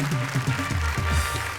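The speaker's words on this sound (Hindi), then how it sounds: "जोरदार तालियां बजाएं" Audience applause for a poet at a televised poetry gathering, a dense continuous patter of many hands over a low hum, with a voice sounding beneath it.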